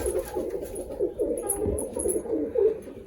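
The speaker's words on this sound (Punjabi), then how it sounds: "ਇੱਧਰ ਬੈਠੇ ਬਾਈ ਕਬੂਤਰ ਆ" Pigeons kept in a setup with clay soil coo steadily in soft, low, repeated calls, close by and continuous over the whole stretch, with no talking.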